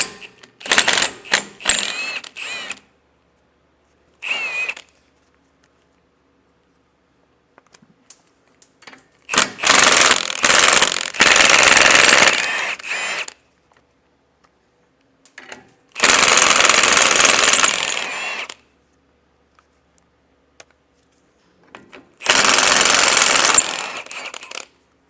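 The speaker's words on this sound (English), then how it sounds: "Just disconnect each of these 4 nuts so that way we can pop off our U-bolts." A power tool runs in loud bursts while the four U-bolt nuts on a tie rod bracket come off during a steering stabilizer install on a 2023 vehicle. The ratcheting whirr is close and separated by silent gaps, with no talk.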